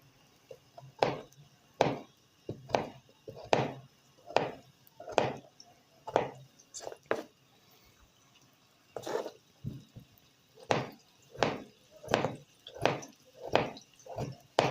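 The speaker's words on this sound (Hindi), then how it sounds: "तो आलूओं को काट लेते हैं।" A knife chops potatoes on a cutting board in a home kitchen: a steady run of crisp, close cutting knocks in quick bursts with brief pauses between them, and no voices.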